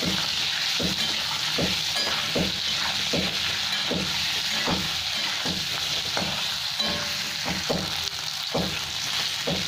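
Potato pieces with turmeric and salt frying in oil, a steady sizzle broken by regular rhythmic clacks of a spatula stirring the pan, close by and with no talking.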